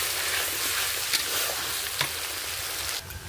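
Frying onion-tomato masala sizzles steadily while a spoon stirs it, with a few brief scraping knocks against the pan rising over the continuous hiss.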